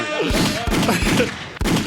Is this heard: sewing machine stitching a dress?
no